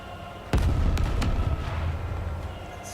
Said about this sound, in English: a relentless barrage of bullets and missiles flying in from beyond the buildings, bombarding Behemoth